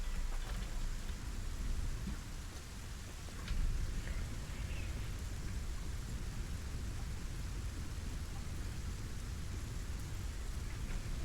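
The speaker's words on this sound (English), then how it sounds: "Why is it raining in this very dry desert?" Dense, unbroken rain pours down in Satisfactory over a dry desert area, a loud, wide hiss with a low rumbling underlayer like distant thunder, and no voices.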